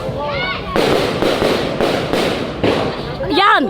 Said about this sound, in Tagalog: marami din sa amin nanonood ng putukan